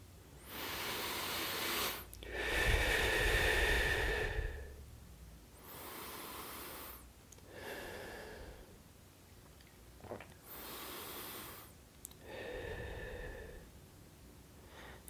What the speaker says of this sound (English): I'll give you all a quick second to do this as I take some conscious breaths.